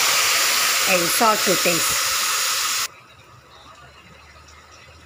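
Tamarind juice poured into a hot pan for a garlic pickle (poondu thokku) hisses loudly and steadily for about three seconds, then cuts to a quiet simmer, with someone briefly speaking over the sizzle.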